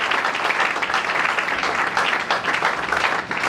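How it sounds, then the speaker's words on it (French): A church congregation applauds in a dense, sustained burst of clapping that carries loudly and evenly from start to finish. "Acclamons pour le Seigneur."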